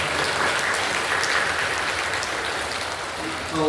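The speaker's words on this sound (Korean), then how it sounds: "박수해 주시고요" A church congregation applauds during a worship service, dense sustained clapping filling the room at close range, easing slightly near the end.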